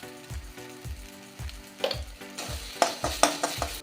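Thick spice paste for jackfruit curry sautéed in a pan, with a spoon scraping and stirring in regular strokes, several sharp clanks toward the end over a low sizzle, close and alone.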